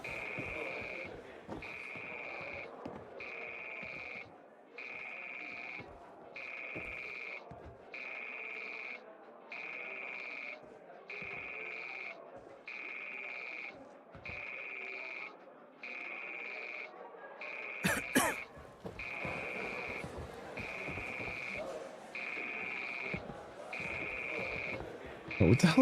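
A telephone rings in Fallout London, a repeated electronic trill in even bursts with short gaps, running on for over twenty seconds at moderate level, with a sharp interruption near the end and faint background sounds beneath.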